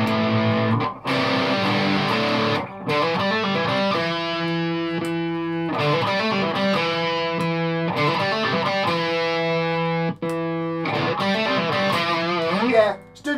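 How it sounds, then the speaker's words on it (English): An Epiphone Les Paul Special II electric guitar played through distortion, loud sustained chords and riffs with brief pauses between phrases, close and prominent. "I was wondering if maybe if I put distortion on it makes a bigger difference."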